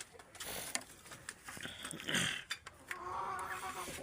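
Chickens and roosters clucking and calling nearby, with overlapping squawks and rustling, no speech.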